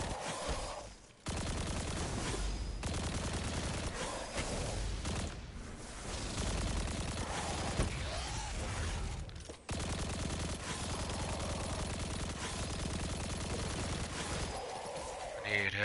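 Dense, continuous gunfire in a Destiny 2 Grandmaster Nightfall, The Devils' Lair, rattles through the whole stretch as rapid volleys and bursts, with brief pauses where the shooting cuts out.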